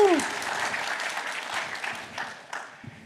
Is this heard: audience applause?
yes